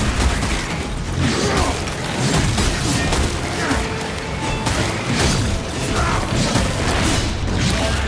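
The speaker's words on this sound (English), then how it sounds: "Sending frag grenade." Frag grenades burst in the video game Warhammer 40k Space Marine 2 amid a dense, loud battle din of booms, gunfire and mechanical clatter that continues without a break.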